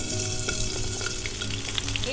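Pabda fish fry in hot oil with a dense, continuous sizzle and crackle, close and steady, with scattered pops and no talking.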